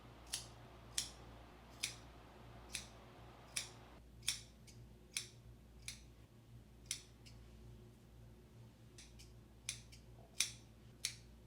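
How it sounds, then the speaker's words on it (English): Sharp scissors snip repeatedly at an uneven pace, crisp quiet clicks about every half second to second, close by against faint room hum. "take a pair of scissors that are pretty sharp and cut those ends"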